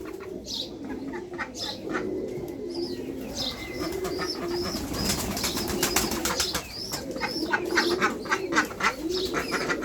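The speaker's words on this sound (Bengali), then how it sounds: "হাঁসগুলো বেশি ডাকাডাকি করে" Ducks in a backyard coop with hens quack repeatedly and insistently, several birds calling over one another in an irregular, lively chorus close by, with occasional wing flapping and cooing mixed in.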